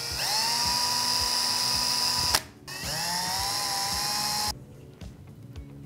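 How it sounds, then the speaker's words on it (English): Drill boring small holes in the top of a 4L60E transmission filter screen: two close, high-pitched whining bursts that rise in pitch as the bit spins up, a brief pause between them, then quiet clicking handling. "What we wanna do is drill 2 16th of an inch holes in the very top of this screen."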